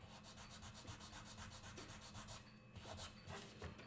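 Close, steady abrasive rubbing from sandpaper worked by hand along the side of a wooden violin bow head into the stick, with even repeated strokes and no talking.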